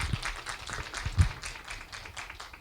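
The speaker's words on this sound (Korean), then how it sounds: "한번 큰 격려의 박수 부탁드립니다." An academic symposium audience claps for four professors after a panel discussion, a loose, moderate round of applause from a hall with a few louder nearby claps standing out.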